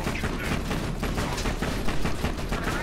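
Rapid gunfire from Borderlands 2, a sustained burst of close, loud shots cracking in quick succession for a few seconds with no voices over it.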